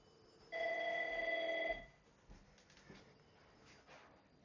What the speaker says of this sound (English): See the phone's ringing.